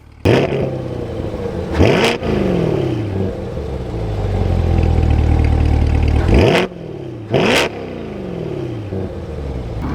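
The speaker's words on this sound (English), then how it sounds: "the squared off exhaust tips, and I'll give you guys a little bit of a rumble" A 2026 Chevrolet Corvette engine rumbles low and steady, revved sharply a few times with loud rising bursts from the squared-off exhaust tips, close by.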